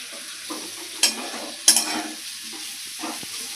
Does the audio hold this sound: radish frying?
yes